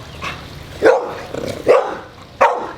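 A dog barks three times in sharp, fairly close bursts spaced about a second apart, with low background noise between them and no talking.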